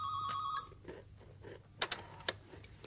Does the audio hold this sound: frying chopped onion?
no